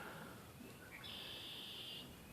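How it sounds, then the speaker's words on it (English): A faint bird call, one sustained whistle-like note with a few shorter chirps before it, over a soft outdoor hush at sunset near a cabin. "and listening to the birds"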